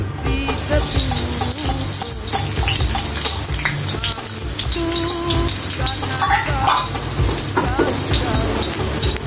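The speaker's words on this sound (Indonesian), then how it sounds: "kita tumis dulu guys, kita tumis dulu, kita kecilin ya" Ingredients for Bugis-Makassar pallumara fish being stir-fried in a pan, a continuous loud sizzle and crackle with scraping stirs, up close, with faint voice underneath.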